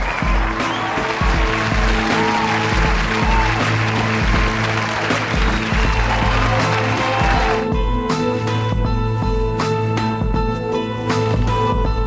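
Studio audience applause on a televised singing contest, dense clapping sustained for several seconds, fading as music takes over.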